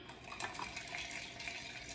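Pineapple ginger Jamaican soda fizzing and bubbling steadily up close, a continuous fine crackle of carbonation with no talking.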